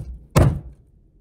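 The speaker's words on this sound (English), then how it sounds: "so we'll just use this as a hammer and you just gotta bang it" A heavy improvised hammer bangs once on a metal belt buckle letter, a single loud dull thunk up close, followed by quiet.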